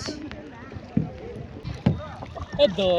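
A rowboat glides across water at a resort on a family outing, with paddle splashes and knocks coming at irregular intervals while voices chatter and wind rumbles against the microphone.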